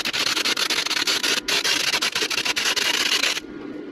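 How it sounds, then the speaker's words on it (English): Grinder working metal on a trailer jack mount, a loud, continuous abrasive rasp with brief dips and one short break, cutting off near the end. "now I'm going to grind it all down"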